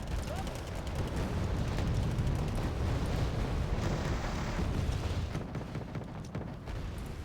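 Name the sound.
laser guided bomb exploding in the video game Wargame Red Dragon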